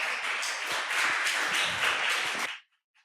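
A school audience claps for a student speaker: a dense, even burst of many hands clapping for about two and a half seconds, fairly close, then cutting off abruptly into near silence.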